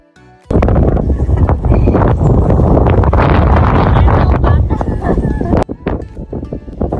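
Strong wind buffets the microphone on the seaside clifftops at Flamborough, a loud continuous roar with gusty rustling that drops away near the end, with voices faintly underneath.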